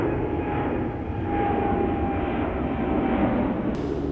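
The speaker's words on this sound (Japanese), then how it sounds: "飛行機が飛んでいきます。" A fixed-wing airplane drones overhead at sunset near a campsite, a steady, continuous engine rumble that holds loud and even throughout with no other sounds.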